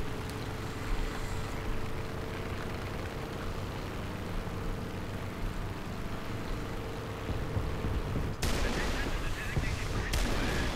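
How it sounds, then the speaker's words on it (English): An AD-4 Skyraider in the War Thunder video game roars along with a steady engine drone while rockets fire off in a rough, continuous rumble, then a sharper louder burst of launches breaks in near the end. "let's get rid of these rockets and then we can go rearm"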